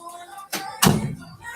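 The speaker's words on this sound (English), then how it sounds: "close that laundry room door" A laundry room door swings shut indoors, giving a soft brushing swish and then a heavier thud as it closes, fairly close and moderately loud.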